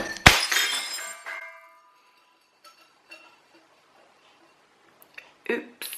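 Glass shatters with a sharp crash, then pieces tinkle and scatter for about a second before fading into quiet; a few faint clinks and bumps follow, with a short burst of handling noise near the end.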